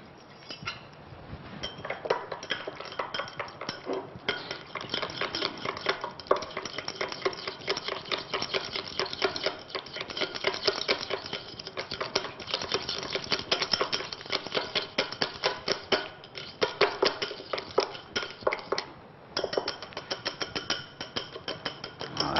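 Chicken salad with fromage blanc and curry being stirred in a bowl, giving steady close scraping and clinking of a utensil against the dish for over twenty seconds with no talk.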